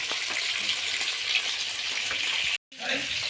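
Small pond rohu fish frying in oil in a large batch, a steady close crackling sizzle that runs without a break apart from a sharp brief cut near the end.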